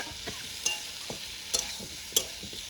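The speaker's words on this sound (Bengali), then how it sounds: "ভেজে নিচ্ছি, সুন্দরভাবে ভেজে নিচ্ছি।" Pre-fried cauliflower pieces frying for fish curry on a desi clay stove, with a soft continuous sizzle and several crisp scraping stirs at irregular moments.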